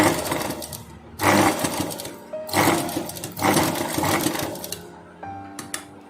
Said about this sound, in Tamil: ஃபஸ்ட்டு லென்த் வைஸ் ஸ்டிச் பண்ணுறேன்